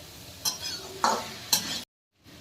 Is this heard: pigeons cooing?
no